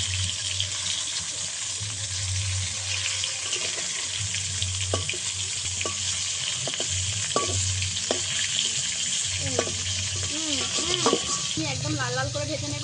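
Fish fries in a hot pan with a continuous close sizzle, punctuated by scraping and clinking as pieces are turned over, with a low hum underneath.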